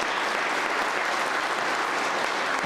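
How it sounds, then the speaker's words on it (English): Applause from the audience for fire-EMS cadets at a city fire department announcement event, a dense, steady round of many hands clapping at close range with no speech over it. "how about a nice round of applause for our cadets as well?"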